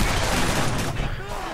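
Rapid gunfire bursts ring out in a Black Ops gun game match, loud and close and crowding the short moment, with a voice partly mixed in.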